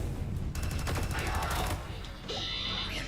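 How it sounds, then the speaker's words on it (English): Rapid electronic railgun fire in the video game Sublevel Zero, a burst of quick zapping shots in close succession, then a brief high whine, fairly faint. "railgun fire is really annoying."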